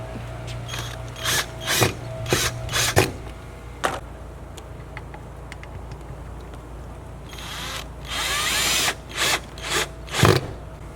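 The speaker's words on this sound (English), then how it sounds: "I've attached a Phillips bit to my drill. Now it's time for us to just install the fixture." Cordless drill driving screws with a Phillips bit while mounting an outdoor light fixture, heard as a series of short whirring bursts with ratcheting clicks and pauses between, plus a longer run near the end.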